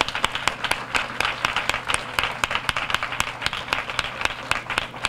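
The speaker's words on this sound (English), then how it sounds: "Let's give them a round of applause." At a 2017 graduation ceremony, an audience applauds mentors who are standing, a steady round of many hands clapping with sharp individual claps standing out close by.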